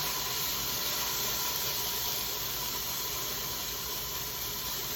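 Ground beef sears in a pan for cheeseburger soup, giving a steady, even sizzling hiss that stays close and constant throughout, with no talking.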